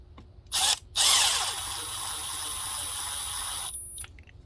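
Power tool winding bolts into a Kawasaki KE175 engine: a short whirring burst, a brief pause, then a longer steady whine that spins down and stops, heard close and alone.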